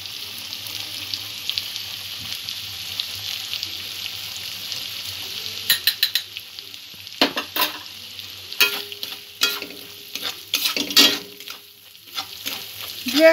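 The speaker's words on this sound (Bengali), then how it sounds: "দু এক মিনিট নাড়াচাড়া করে নেব।" Food sizzles and fries in a pan while being stirred, a steady hiss under intermittent scraping and clinking strokes of a utensil that grow busier in the second half.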